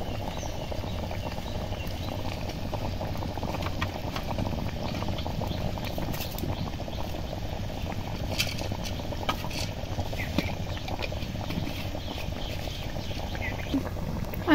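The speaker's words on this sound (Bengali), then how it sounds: "ঝোলটা ফুটছে, এবার ডিমগুলো দিয়ে দেব।" Curry gravy bubbling steadily in a cooking pot for an egg dish with jackfruit seeds, a constant low simmering patter with small pops, close and moderately quiet, with no talking.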